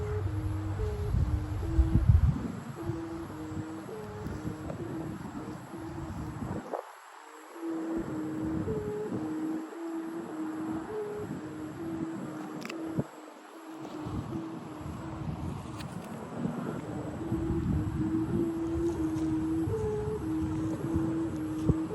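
Steady strong wind roars across an open field while a two-compartment 2.5-metre Thai kite flies tailless about 60 metres up, with continuous buffeting gusts and faint line and flutter noise throughout.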